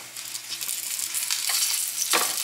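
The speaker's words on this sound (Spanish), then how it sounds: "Por aquí ya se están cocinando los tomatitos." Tomatoes frying in a pan with a splash of oil give a steady, close crackling sizzle with small popping bursts throughout, no voices over it.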